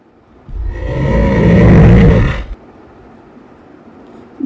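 A bear gives a single loud, low, guttural roar lasting about two seconds, swelling and fading, then near silence.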